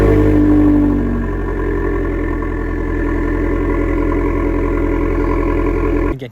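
A Fiat Abarth on its stock exhaust system idles with a loud, steady, close engine drone, easing slightly after a brief higher rev at the start and cutting off at the end.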